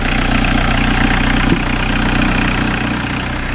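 A Peugeot 405 engine idles while running on a mix of engine oil and petrol, giving a steady, loud, close-up drone with a low rumble, one brief knock partway through, and no voices.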